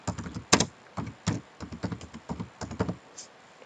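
Typing on a computer keyboard while entering a heading in Microsoft Word, a steady run of close, light key clicks at an uneven rhythm, with no speech.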